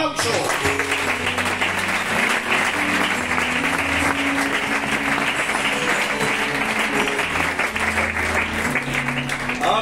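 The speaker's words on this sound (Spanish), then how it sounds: "¿Qué les parece si le damos al Señor un fuerte aplauso?" A church congregation gives sustained, loud applause lasting the whole stretch, dense and even, with voices and music-like tones beneath.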